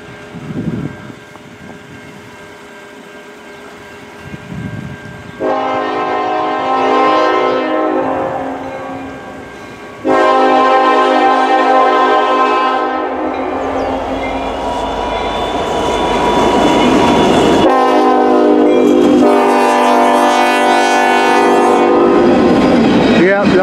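A CN westbound local grain freight train led by CN locomotive 5462 rolls past close by, sounding loud, sustained horn blasts in several long calls over a deep rumble of the moving train.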